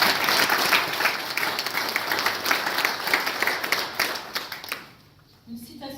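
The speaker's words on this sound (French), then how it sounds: "Pour tout cela, je pense qu'on peut les applaudir." An audience at a mayoral campaign speech in Arpajon breaks into sustained, dense applause that fills the room, then thins out and fades toward the end, leaving a brief murmur.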